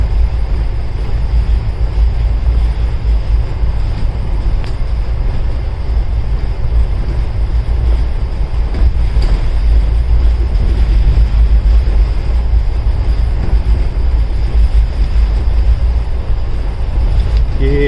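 A train running on railway tracks in Rajasthan, heard as a loud continuous low rumble and rolling rattle from on board, steady throughout with no talk.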